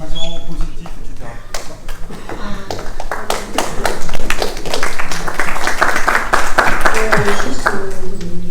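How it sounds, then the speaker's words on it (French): Scattered, uneven clapping from a conference audience builds into sparse applause, with sharp individual claps standing out while someone talks over it at close range. "j'interromps les applaudissements"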